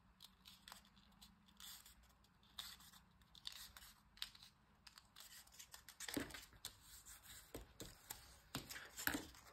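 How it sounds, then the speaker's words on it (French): Small scissors scoring fold lines into card for a baby gift box, giving faint scratchy strokes and light taps scattered through a quiet room, with a few sharper crisp scrapes near the end. "je prends mon petit ciseau, marquer les plis"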